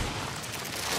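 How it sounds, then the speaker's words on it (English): A grenade explodes in the video game Army of Two: The Devil's Cartel, a loud, broad roaring blast that fills the whole brief moment. "Throwing a grenade."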